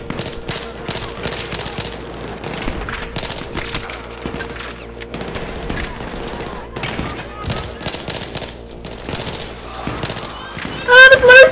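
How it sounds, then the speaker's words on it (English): Gunfire in the Battlefield 3 video game, with sustained bursts of automatic fire and scattered single shots through a co-op firefight, loud and close, while voices talk over it. "I'm being shot, but I don't know where from."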